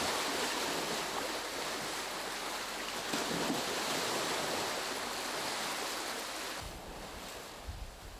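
Sea waves and coastal wind wash against layered sedimentary rock strata on a shoreline, a continuous loud hiss of surf with no pauses, broad and close throughout.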